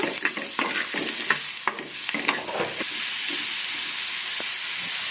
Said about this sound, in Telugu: ఇప్పుడు మనం కట్ చేసుకుని పక్కన పెట్టుకున్న పొట్లకాయ ముక్కలు వేసేసుకోవాలి ఇందులోనే కొంచెం పసుపు కొంచెం సాల్ట్ ఒకసారి కలిపెట్టేసుకోవాలంట